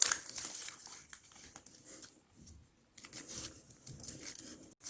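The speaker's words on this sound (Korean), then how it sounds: "그리고 펴서 반대편으로도 이렇게 접어주세요." Origami paper being folded and creased by hand, soft close crinkling and rustling that comes and goes in short bursts, quiet and without talk.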